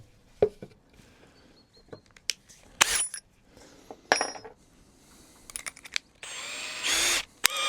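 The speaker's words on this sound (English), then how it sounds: "now we need to drill the holes here" Power drill boring holes in wood for a mason bee house, heard as short bursts of drilling that end in a longer, louder run, with clattering handling knocks between.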